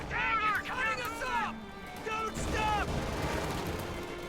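Light machine gun fire during a Company of Heroes 2 battle, a rattling stream of shots mixed with sharp cracks and distant booms, while a voice talks over the top throughout.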